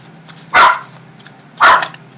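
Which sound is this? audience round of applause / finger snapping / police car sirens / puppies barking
puppies barking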